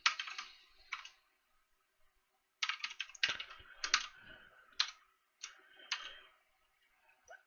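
Computer keyboard typing in a quiet room, with bursts of crisp key clicks coming in uneven clusters and short pauses between them, close and clear with no voices.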